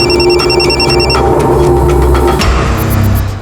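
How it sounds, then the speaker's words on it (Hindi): A telephone rings loudly and close in a repeated trilling electronic bell pattern, with a steady background hum and no talking. "सर मुझे अभी कांता का फोन आया था"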